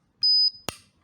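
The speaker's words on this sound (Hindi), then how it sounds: "राउटर बीप है ये।" A MikroTik RB750Gr3 router gives a single short, high-pitched electronic beep on power-up, followed by a sharp click, close and clear in a quiet room.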